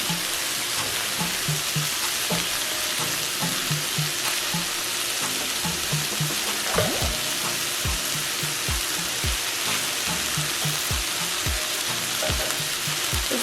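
Ham and shrimp curry fried rice cooks in a large pan with a steady, loud sizzle, broken by repeated clacks and scrapes of stirring throughout.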